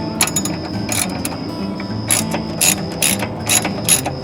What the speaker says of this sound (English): So I put my socket on the other end of it